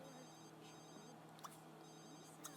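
A cell phone rings in The Sims 3, a repeating electronic ringtone in short bursts at steady intervals, with faint clicks from the game in the background.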